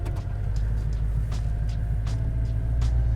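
Interior of a slammed supercharged GMC Sierra pickup on 26-inch wheels during a test drive, a steady low engine and road rumble with occasional light rattles and clicks.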